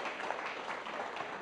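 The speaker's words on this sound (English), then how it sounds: "Everyone give Chris a round of applause." A room full of people applauds for a volunteer named Chris, a steady wash of many hands clapping at moderate distance, dense and even throughout the brief burst with no talk over it.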